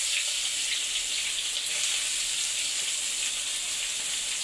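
Onions and green chillies sizzle in a little leftover oil while cooking for chicken lollipops, giving a bright, steady hiss and crackle that runs unbroken and fairly close throughout.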